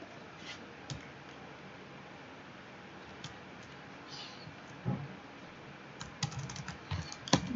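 Computer keyboard keys tapped sparsely while deleting Pascal code, a few scattered clicks and short quick runs of keystrokes, close and quiet against faint background hiss, no talk.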